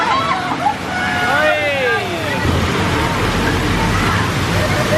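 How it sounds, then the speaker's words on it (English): Waterfall splashing inside a cave on a theme park jeep ride, a steady broadband rush of falling water building from midway and filling the scene, with excited voices and someone talking over it. "Oh wow, the waterfall's on."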